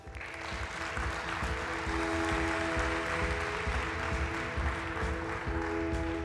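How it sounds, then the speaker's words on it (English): An audience at a technology conference applauds to welcome a speaker, a steady, moderately loud patter of clapping lasting several seconds, with a faint constant hum underneath. "Please help me with a warm round of applause to welcome Mr."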